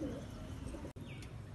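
A pigeon coos low and soft at close range, broken by a brief dropout, with a faint chirp near the end.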